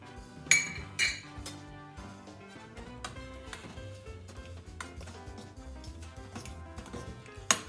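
Egg and milk are being stirred into cake batter in a bowl, giving repeated light clinks and taps of a utensil against the bowl, with two sharper knocks near the start and one at the end.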